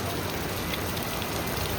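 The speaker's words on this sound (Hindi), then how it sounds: "रात के 8:30 बजे ऐसी भयंकर बारिश शुरू हो गई है" Heavy monsoon rain falls at night in Nainital, a dense, steady roar of drops hammering surfaces, loud and unbroken with no voices.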